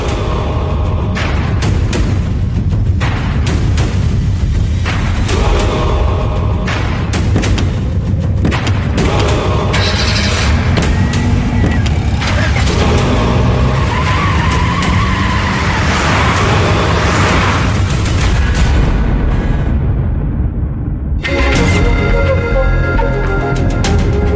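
A car speeds away in a dramatic TV serial scene, with loud skidding, roaring engine and booming impacts layered under dense, intense background music. A short pause near the end is followed by the rush resuming.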